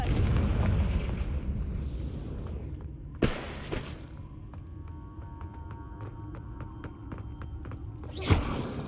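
A Confringo blasting curse explodes in the Hogwarts Legacy video game: a heavy, rumbling boom fades out, followed by a sharp crack, lighter ticking game effects and another loud burst near the end.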